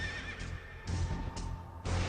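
A horse neighs as a sound effect, a loud whinny over a rumbling background, with repeated bursts of noise and faint hoof clip-clop.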